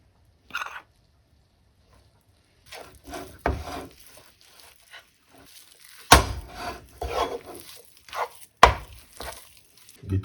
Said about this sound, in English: So I start with flour like this and mix it.